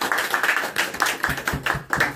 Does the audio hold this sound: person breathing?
no